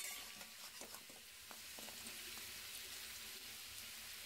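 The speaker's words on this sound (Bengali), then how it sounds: "একটু নুন আর হলুদ দিয়ে ভালো করে লাল লাল করে ভেজে নেব" Taro pieces frying in oil with salt and turmeric for a Bengali taro and tangra fish dish, giving a steady, close sizzle with occasional stirring scrapes and no voices.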